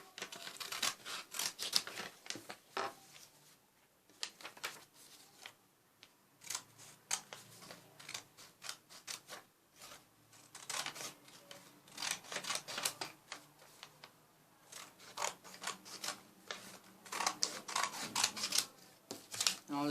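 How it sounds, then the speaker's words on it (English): Scissors snip through several layers of folded paper while shaping a small Kakashi figure, giving a quick run of close, crisp cuts that pause and resume in bursts, with no talking over it. "Next thing I'm going to do is cut it out like that."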